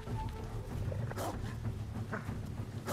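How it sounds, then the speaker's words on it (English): Growls and low whimpers from a dog in the video game Ghost of Tsushima, set over a constant low rumbling game ambience, with faint scattered vocal bursts. "There's a dog?"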